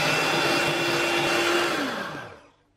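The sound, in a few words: whisking stevia into keto raspberry mousse mixture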